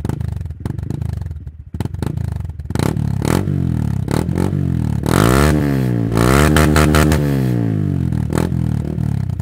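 A custom-exhausted Honda Grom MSX 125 motorcycle revs hard and loud close by, climbing through several rising and falling sweeps with brief clatter between blips, no talking.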